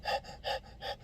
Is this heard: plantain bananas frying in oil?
no